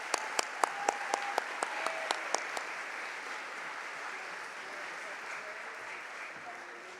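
Audience applause at an upper school honors ceremony, steady and sustained for several seconds, with a few sharper individual claps standing out near the start before it settles into an even wash of clapping.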